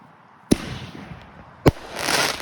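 Fireworks bursting outdoors on bonfire night: two sharp, loud bangs about a second apart, the second followed by a rising crackling hiss as more pyrotechnics go off, with no talking.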